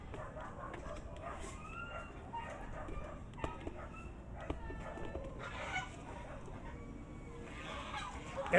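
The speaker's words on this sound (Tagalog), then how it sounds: "Gansa!" Farmyard geese honking and calling amid other poultry outdoors, several overlapping cries and clucks at moderate distance, fairly faint over a steady background.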